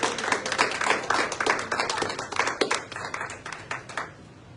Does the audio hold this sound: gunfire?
no